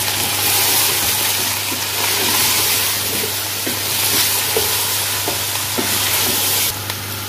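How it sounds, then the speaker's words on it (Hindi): Chicken handi fries and sizzles in a pan with red chilli, chilli flakes and ground garam masala, a steady close hiss with occasional stirring scrapes and no talk. "इन सब चीज़ों के साथ मैं इसे थोड़ा सा और भून लूँगी।"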